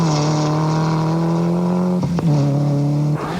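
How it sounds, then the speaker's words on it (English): A Honda rally car engine screams at high revs on fast roads, sustained and loud, with two sharp gear-change dips and a final pitch drop at the end, no voices. "it's that screaming Honda, Dave Strong. Really suits these fast roads"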